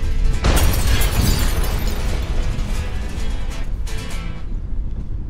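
A loud explosion erupts into a sustained roaring rumble, with a second burst a few seconds later.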